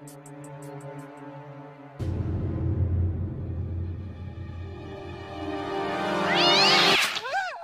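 A cat soaked with water as a control test, giving loud, drawn-out meows and caterwauls that swell and waver, with a splash-like burst partway through and rising yowls near the end.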